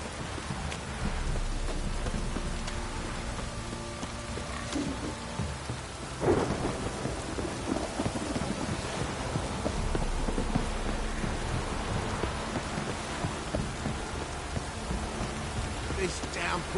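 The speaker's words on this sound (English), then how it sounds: "This downpour's a bastard" Steady heavy rain falls throughout a Witcher 3 game scene, with a loud thunderclap around the middle and distant rumbles that continue under the downpour.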